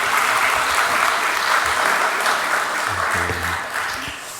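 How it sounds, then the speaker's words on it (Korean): Sustained congregation applause at a Sunday church service fills the room after a choir hymn, a dense wash of clapping that softens slightly toward the end. "다시 한 번 더 우리 감사와 영광의 박수로 하나님께 영광 돌리겠습니다."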